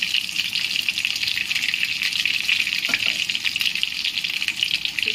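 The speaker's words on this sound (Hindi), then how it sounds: "ये सारा फ्राई कर लेंगे हम, फिर दिखाएंगे आपको।" Potato fritters (aloo gunda) deep fry in hot oil, a dense, steady hiss and bubbling sizzle that stays close and loud throughout without any speech.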